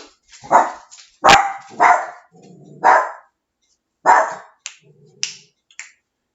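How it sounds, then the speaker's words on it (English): A dog barks in a series of sharp, close barks spaced irregularly over several seconds, with short quiet gaps between them and no talking. "Rambo barks at everything he hears"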